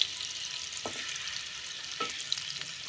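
Eggs being stirred and fried in hot oil give off a constant soft sizzle, with two distinct spatula scrapes against the pan.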